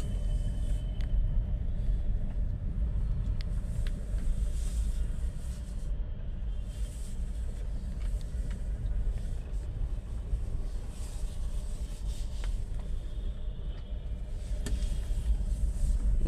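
A car rolling slowly down through a multi-storey parking garage, its engine a steady low rumble with boomy enclosed reverberation and occasional faint clicks and squeaks.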